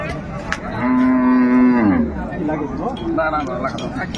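Cattle low loudly at a livestock market in Ranigonj, Dinajpur, where dairy cows and calves are sold: one long, close moo, then a few fainter calls further off, with crowd chatter throughout.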